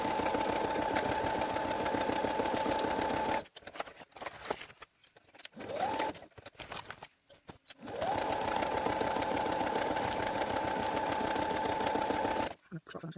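An electric sewing machine stitches through paper, loud and close, with a fast, even motor hum and needle clatter. It runs in long bursts broken by short pauses and a few stop-start runs.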